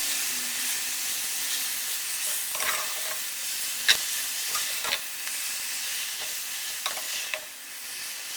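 Fenugreek leaves fry in oil in a pan, a continuous sizzling hiss broken by several sharp clinks and scrapes of a stirring utensil at irregular moments.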